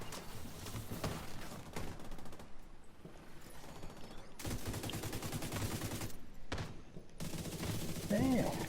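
Rapid gunfire rattles through a firefight in The Division 2, including shotgun blasts, with dense bursts of shots layered over one another, dipping briefly before resuming, while a voice speaks faintly underneath.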